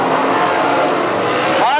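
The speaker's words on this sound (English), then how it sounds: "Here comes Kinser barreling up on the inside of Haud." World of Outlaws sprint cars race at Placerville Speedway, a loud, continuous roar of several engines that swells near the end as a car sweeps past, with a commentator talking over it throughout.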